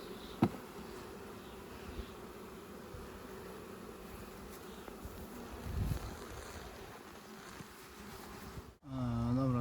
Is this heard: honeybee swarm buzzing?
yes